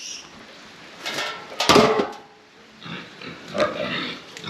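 Pigs feeding on a mix of rolled barley and pig feed, with close snuffling, grunting and chewing noises that rise and fall in bursts, loudest midway, over a steady background hiss.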